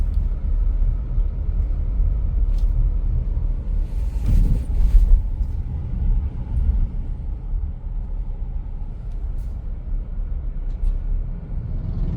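A car engine pulls in second gear on a steep downhill slope, giving a steady low rumble throughout with a brief louder surge midway, heard from inside the vehicle with no talking.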